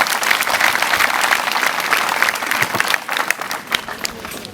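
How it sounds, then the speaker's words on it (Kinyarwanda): Audience applause welcoming the head of the Curazo gathering, a sustained dense burst of clapping from a crowd filling the room, steady and loud throughout. "Murakoze mwamwakira n'amashyi menshi cyane."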